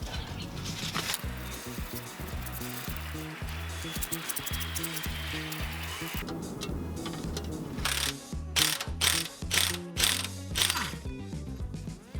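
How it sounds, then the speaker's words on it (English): A ratchet wrench with a 19mm socket undoing nuts and bolts on a Tacoma front differential, making rapid, loud rhythmic clicking that runs steadily, then shifts into slower, heavier bursts of ratcheting near the end. "I'll undo these 2 nuts and bolts here with a 19mm socket and wrench"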